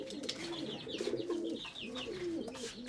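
Pigeons coo in soft, throaty, rolling bursts, close by, with faint chirps and background rustle mixed in.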